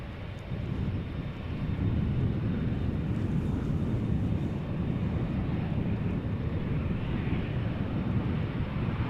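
An Airbus A319 arriving from Munich at Amsterdam Schiphol, about 25 years old, gives off a steady broadband jet roar that holds loud and constant from start to finish with no talking.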